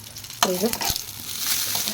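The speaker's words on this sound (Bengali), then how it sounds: "বেগুনটা ভাজা হচ্ছে" Eggplant (begun) fries in a pan with a close, crackling sizzle, broken by a brief scraping squeal and a few sharper spits.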